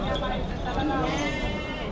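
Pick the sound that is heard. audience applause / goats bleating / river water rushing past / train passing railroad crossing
goats bleating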